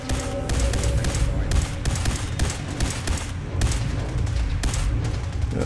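Rapid bursts of gunfire in a Fallout 4 firefight, loud, dense volleys of shots crackling in quick succession with short gaps between clusters, sustained throughout without talk.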